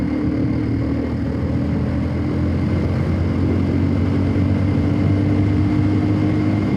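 Continuous engine drone of a motorcycle with stock exhaust at speed, a steady hum with tonal exhaust notes and road and wind rush, no talking.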